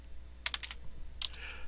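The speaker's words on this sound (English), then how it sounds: "Having trouble typing." Keys clatter on a computer keyboard in two quick bursts of typing, the first a rapid run of clicks and the second a shorter flurry, fairly close and quiet against a still room with no voices.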